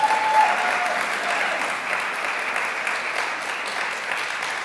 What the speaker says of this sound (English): Dr. Tom Huner, let's give him a round of applause.